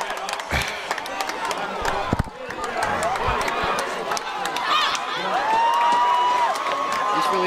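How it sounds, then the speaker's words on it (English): A high school football crowd at a Natick game cheers after a touchdown, sustained roaring and whooping with scattered claps, swelling louder toward the end. "That touchdown fires up this Natick crowd here."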